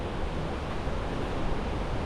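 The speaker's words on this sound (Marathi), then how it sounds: "हे बघ समोर बघा शेरानपाड धबधबा" Sheranpad waterfall in Ratnagiri roars as a dense, continuous wash of rushing water, loud and close with no pauses and no talk.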